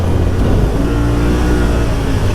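A Yamaha RMAX 1000 UTV being ridden, its engine giving a loud, close, steady low drone with a broad rushing noise over it.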